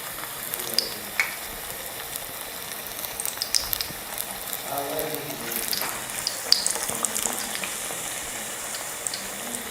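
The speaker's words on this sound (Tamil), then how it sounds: "பார்த்தீங்கன்னா பஜ்ஜி நல்லா வெந்துட்டுருக்கு." Bajji fritters fry in hot oil on a home stove, giving a faint, steady sizzle with scattered light crackles and pops across the whole stretch and no talking.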